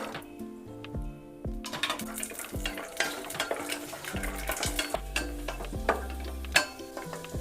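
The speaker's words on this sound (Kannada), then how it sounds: "ದ್ರಾಕ್ಷಿ ಗೋಡಂಬಿ ಹುರ್ಕೊಳ್ಳೋಣ" Raisins and cashews fry in hot ghee, crackling and sizzling steadily at close range while a spoon stirs them through the pan, with occasional metallic scrapes and no talking.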